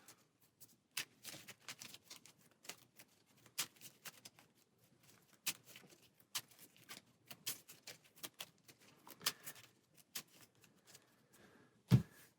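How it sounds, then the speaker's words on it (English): A deck of Marvel Champions cards being shuffled on a table, a series of quick riffling snaps and soft pattering clicks spread irregularly over several seconds, close and quiet, with a sharper knock near the end. "Then shuffle our deck."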